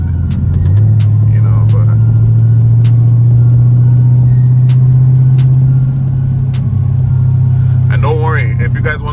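Camaro ZL1 V8 driven in the rain with a check engine light on, a loud, steady low engine drone rising in pitch as it accelerates, then easing back, with brief speech from the driver near the end.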